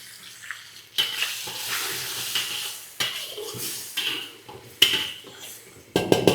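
Tomato juice goes into a hot frying pan for leftover tomato rice, raising bursts of sizzling along with the scrape and clatter of a utensil stirring against the pan.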